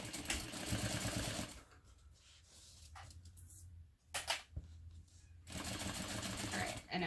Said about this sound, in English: you'll be sewing through the whole pocket at the bottom.